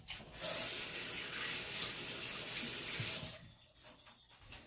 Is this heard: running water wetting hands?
yes